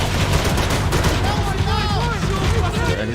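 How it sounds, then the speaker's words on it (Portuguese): Dense gunfire in the shooter game Max Payne 3, rapid overlapping shots and bursts rattling continuously from all sides, with someone talking over the firefight. "aqui que é tiro pra tudo que é lado"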